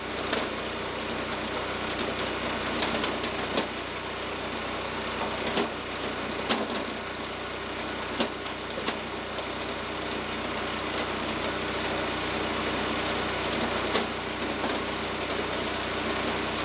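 An Eastonmade Axis firewood processor's engine runs steadily throughout, a loud, continuous mid-to-low drone with faint mechanical clanks and knocks scattered over it, no talk.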